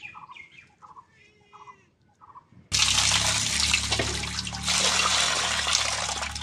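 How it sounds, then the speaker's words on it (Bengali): Fish being washed in a bowl of water while cooking a jackfruit and prawn dish, with a loud, steady splashing and sloshing that begins abruptly after a few seconds of quieter background sounds and runs to the end. "এবার আমি মাছগুলোকে ধুয়ে নেব।"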